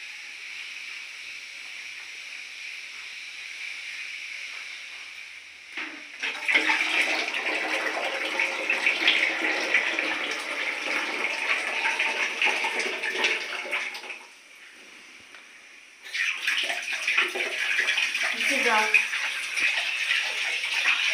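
Water gushes steadily into a tub in a tiled room, stops briefly, then starts again.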